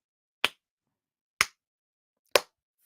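A deliberate slow clap for Elijah Schaffer: three sharp, isolated hand claps spaced about a second apart, close and crisp against silence.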